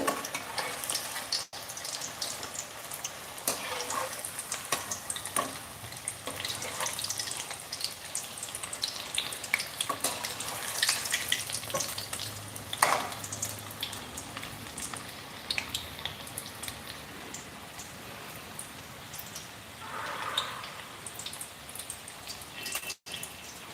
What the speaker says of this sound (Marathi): मस्त क्रिस्पी होऊस तर छान असं याला तळून घ्यायचं आहे